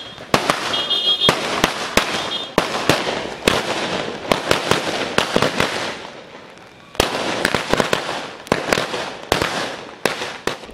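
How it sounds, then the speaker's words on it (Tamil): Firecrackers set off by celebrating supporters in Batticaloa, Sri Lanka, fast chains of sharp pops and bangs with a crackling wash under them, a short lull midway, then another burst. "அவரின் ஆதரவாளர்கள் பட்டாசு கொளுத்தி தங்களது மகிழ்ச்சியை வெளிப்படுத்தியுள்ளனர்"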